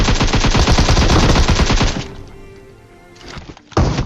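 Rapid shotgun and automatic gunfire in a battle royale game, a loud fast burst of shots for two seconds that drops to quieter game noise, then one more sharp bang near the end.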